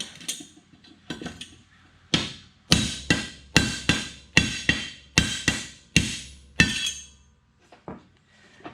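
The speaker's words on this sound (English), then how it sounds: "Take a hammer and give it a couple good licks." A few light taps, then a run of about ten ringing hammer strikes on the teeth of a Massey Ferguson #42 sickle mower knife in a steady rhythm, close by, ending with softer taps.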